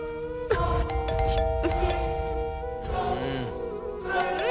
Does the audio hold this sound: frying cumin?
no